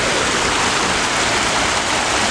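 Steady, loud rush of water pouring at a waterfall in Qatar, a continuous broadband roar heard up close with no talk over it.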